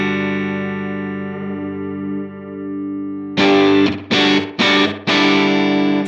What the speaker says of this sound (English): with some careful kind of tweaking here, get some pretty interesting reverb type effects